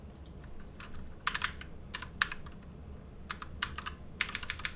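Bursts of typing on a computer keyboard at a Windows PC, fast clusters of key clicks separated by short pauses, close and clear over a low steady background hum.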